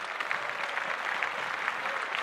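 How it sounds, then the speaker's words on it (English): Faint, even audience clapping that runs steadily for a couple of seconds with no voices on top, thin and distant in the mix. "So clap that up, brother."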